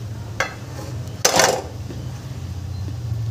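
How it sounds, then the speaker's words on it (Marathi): A lid goes onto a pot of steaming puran dind dumplings set over boiling water, with a light metal clink followed by a sharper, louder clatter, then quiet background hum. "यावर आपण झाकण ठेवून द्यायचं"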